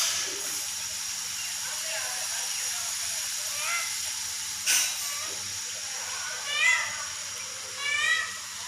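On a clean, well-kept farm, a peacock gives several clear rising calls at mid distance over a steady background hiss, with short gaps between them.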